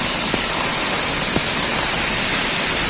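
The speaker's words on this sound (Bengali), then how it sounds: "রাস্তা ভেঙে ভেঙে এভাবে ঝর্ণার মতো হচ্ছে" Rainwater cascades down a broken, rain-damaged road like a waterfall, making a loud, steady, unbroken rushing roar that fills the whole moment.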